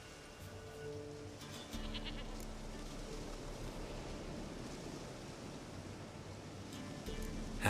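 In The Witcher 3: Wild Hunt, a goat bleats repeatedly, giving several wavering cries over a steady outdoor wind-like hiss, with no voices.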